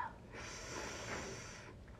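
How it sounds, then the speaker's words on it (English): A single sharp sniffle of air drawn in through the nose, close and fairly faint, lasting about a second and a half, with no talking. "the topic of the day is me sniffling"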